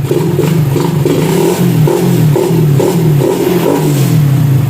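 A Yamaha motorcycle with a newly installed quick throttle and JRP flange hub revs up close in a steady loud run of short throttle blips, the engine note rising and dropping repeatedly with no talking.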